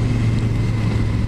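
A Triumph Bobber Black motorcycle engine cruises in sixth gear at low revs, a steady, loud low rumble with wind noise and no speech.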